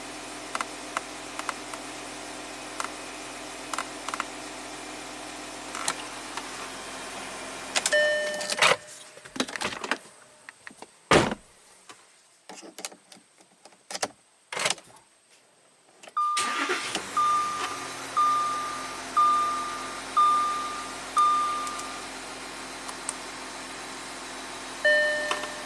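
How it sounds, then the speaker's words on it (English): A 2014 Audi Q7 TDI air suspension raises the rear for off-road mode: a steady mechanical hum inside the cabin, broken by a quiet stretch, then pulsing surges with a row of electronic chimes. "Okay, it's lifting up the back. This is for off-road mode."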